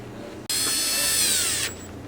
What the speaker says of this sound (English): we will install these with a cordless drill